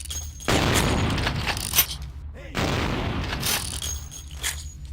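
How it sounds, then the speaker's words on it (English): Two loud shotgun blasts from the video game Vampire the Masquerade: Bloodlines, each a sharp boom with a long rumbling tail, spaced about two seconds apart with no talk over them. "Two shots. I don't want to tangle with that shotgun."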